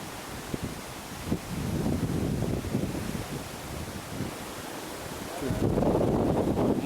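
Steady rushing sea waves with a swell that grows louder near the end, mixed with wind noise and faint voices in the background, at Madurai.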